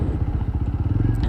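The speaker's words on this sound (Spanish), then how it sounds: "Esta moto, esta que estoy manejando en este momento" A TVS Apache 200 Fi ABS motorcycle ridden on the road, its engine giving a steady, close, pulsing low drone with a faint rattle throughout.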